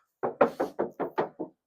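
Seven quick, evenly spaced knocks on the steel body panel of a Mitsubishi Pajero 2.4 GT, each a short hollow metallic thud, close and clear against silence.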